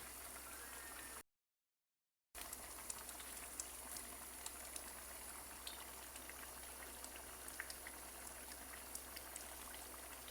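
Falsa fruit syrup simmering in a pot gives a continuous bubbling hiss with small pops, steady and close, cut by a brief silent gap near the start, with no speech.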